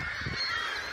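A flock of geese in a field honks in a brief, loud, overlapping burst of nasal calls close by.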